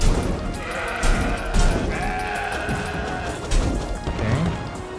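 Goats bleat repeatedly in the CrossCode video game amid busy, loud combat effects, with crashes and thwacks layered over the calls.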